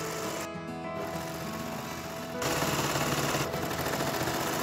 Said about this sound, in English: I'm overlocking the seams using my Baby Lock Victory Serger with a setup that allows for some stretch